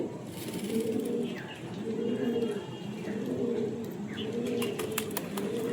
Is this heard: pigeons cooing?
yes